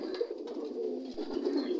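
Pigeons in a farmed flock coo steadily in low, overlapping murmurs, close and continuous throughout with no talking over them.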